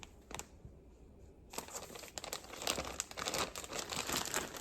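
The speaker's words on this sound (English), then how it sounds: "Sorry for the crinkling." Plastic packaging around yarn skeins crinkles and rustles up close, a brief crackle at first, then a near-continuous busy crinkling that grows denser and louder toward the end.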